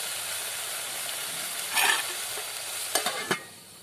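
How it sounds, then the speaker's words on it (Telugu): Eggplant pieces frying in a pan for a village-style eggplant tomato curry hiss softly and steadily, broken by a short scraping stir near the middle and a few quick clatters of the spoon toward the end. "వంకాయ ముక్కలు మాడి పట్టకుండా మధ్య మధ్యలో ఇలా కలుపుకుంటూ ఉండాలి"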